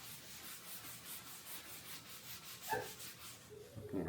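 Faint, rhythmic rubbing strokes of a paper towel wiping paint off black granite, a soft repeated swishing, followed by a couple of louder scuffs near the end.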